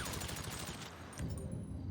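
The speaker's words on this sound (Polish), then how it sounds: "Pięknie, kilka strzałów i cię nie ma." Rapid bursts of video game gunfire in a shootout, dense and loud, with repeated shots crackling close up and no voices over them.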